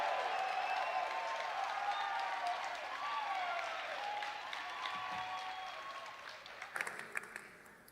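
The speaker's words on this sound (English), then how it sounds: "Let's clap for him." An audience at a TEDx event at Grand Canyon University applauds, dense sustained clapping from a large crowd that fades gradually, ending in a few scattered claps, with no voices over it.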